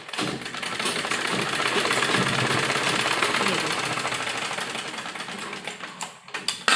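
A sewing machine runs steadily while stitching a lined embroidered sleeve, a continuous fast whirring chatter up close that slows and stutters near the end.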